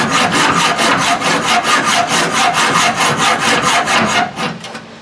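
Cutting off a bolt head on a Ford F150's rear suspension during a leaf spring flip install: loud, steady back-and-forth scraping strokes, about a dozen in quick even rhythm, fading at the end, with no talking.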